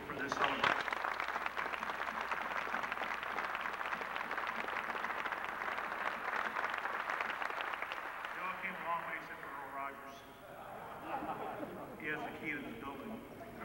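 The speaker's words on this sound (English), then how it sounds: "I'd like you all to give them a round of applause." Audience applause for helicopter crew members at a Medal of Honor panel event at NAS Pensacola, a dense sustained clapping that thins out near the end while voices murmur underneath.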